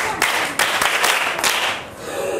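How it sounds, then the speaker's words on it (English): Schoolchildren in a classroom clap for a classmate, a short burst of scattered hand claps from a group, fairly close and lively, fading slightly toward the end. "Clap for her."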